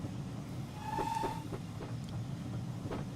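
A steam train runs on rails in Train Simulator, with a steady rolling rumble, a brief whistle-like tone and several light rhythmic clicks, alone with no talk.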